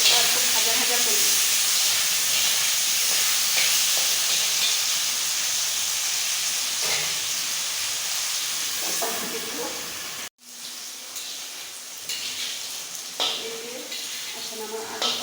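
Potatoes frying in a pan with turmeric and salt give a steady, close hiss and sizzle that runs throughout, dipping briefly near the end before resuming, with some voice at times.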